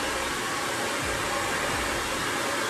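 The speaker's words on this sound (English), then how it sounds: "So the way I'm blow drying my hair" A hand-held blow dryer runs continuously while drying hair with a brush, a steady airy whoosh with slight dips in pitch as it moves around the head.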